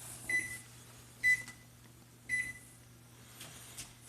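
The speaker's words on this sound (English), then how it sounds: "We're going to set our timer on 30 minutes." Short electronic beeps from a kitchen timer being set for an oven-baked green bean casserole, three separate bright chirps spaced about a second apart over a steady low appliance hum.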